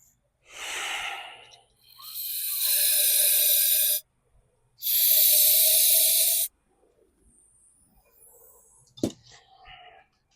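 Two long, loud bursts of hissing aerosol starting-fluid spray on a 2021 John Deere S120 lawn tractor, each lasting a couple of seconds, with short breathy noises around them and a sharp click near the end.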